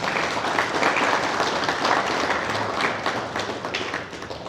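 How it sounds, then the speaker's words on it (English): An audience at a talk in Toronto bursts into a big round of applause, with dense, sustained clapping that fades slightly toward the end. "Can we have a big round of applause for Maharaj?"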